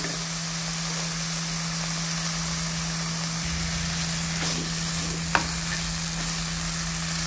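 Banana flower with grated boiled potato sautéing in a pan for banana flower chops, a constant even sizzle with a faint steady hum and one brief clink near the end, no voices.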